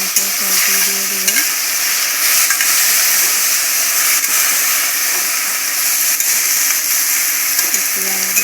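Raw green banana and potatoes fry in hot oil with panch phoron, giving a loud, steady hiss and sizzle close by, with stirring scrapes and a faint hum in the background.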